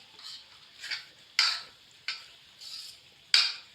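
Grated carrot for carrot delight stirred and sautéed in a pan, six distinct scraping strokes spaced about half a second apart, each with a light sizzle, close and clear with no talk.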